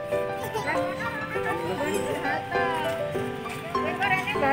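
A horse at Taman Jurug zoo in Solo, with possible hoof clip-clops and a brief whinny mixed into a steady bed of nearby chatter and children's voices from visitors.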